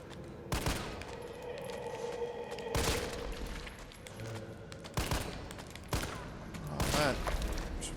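Heavy bursts of gunfire aimed at zombies in the Resident Evil 3 (2020) remake, four or five loud separated volleys with quieter game ambience and a voice in between.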